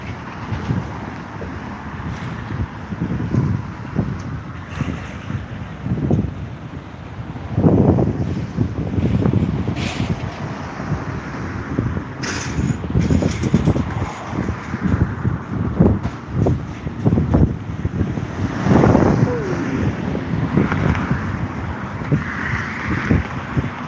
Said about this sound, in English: Nice breeze today.